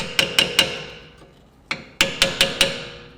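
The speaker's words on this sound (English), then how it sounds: "A good place to put the screwdriver is just here against the backing material of the pad. Just give it a light, gentle tap" A hammer taps a screwdriver held against the backing of a rear brake pad on a 2008-2021 Grand Caravan, giving sharp metallic knocks: three quick taps, a lone softer one, then four more in even rhythm, close and clear.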